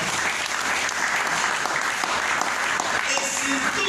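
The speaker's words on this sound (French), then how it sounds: "Applaudissons notre Dieu" A church congregation at a French-language service applauds steadily and strongly throughout, with voices talking faintly within the clapping.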